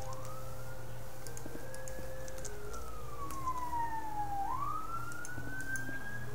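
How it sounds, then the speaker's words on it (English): An emergency vehicle siren wails outside in a city setting, a long rising and falling tone over steady background hum, fairly distant and continuous with faint clicks throughout. "Nice siren."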